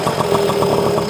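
A small Honda folding mini motorcycle engine runs at a steady idle, a close, even putter with rapid regular pulses and no voices over it.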